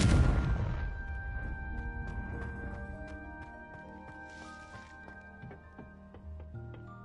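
A Confringo explosive spell cast in Hogwarts Legacy, heard as a deep booming blast that fades over several seconds, followed by soft taps and thunks over steady game music tones.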